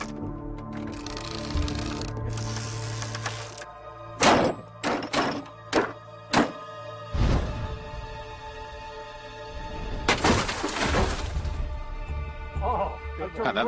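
A ballista bolt hits its target in a test of ancient artillery: a run of sharp wooden thunks and knocks, close and percussive, with a voice talking around them.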